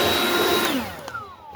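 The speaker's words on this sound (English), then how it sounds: "handy dandy blowers and blow them things out, clean that dust and junk out of there." A handheld blower roars loudly while blowing dust and debris out of an air conditioner, with a whining tone that drops in pitch as the blower spins down, leaving a few faint knocks.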